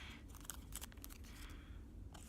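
Paper labels are torn off a rock in a few quick, faint ripping and crinkling bursts, close by, with no talking.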